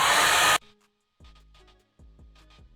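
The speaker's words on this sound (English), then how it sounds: "I'm blasting this hairdryer" A hair dryer blasts loudly and steadily for about half a second, then cuts off abruptly, followed by quieter talk from people nearby.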